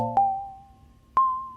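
Sine-wave keys from Logic Pro's Quick Sampler default patch play two clean, sustained notes about a second apart, each with a sharp attack and a long smooth decay, with no talking.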